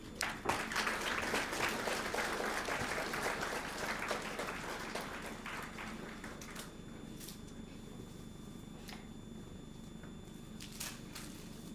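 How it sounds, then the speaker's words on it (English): Audience applause for a souvenir team at a DRDO event, starting strong and dense, then thinning into scattered, fainter claps that trail on for several seconds. "Let's give the souvenir team a round of applause."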